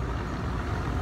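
Heavy vehicle traffic rumbles steadily along a town's main street in St Andrews, a continuous low engine drone like trucks and cars passing close by, with no voices over it.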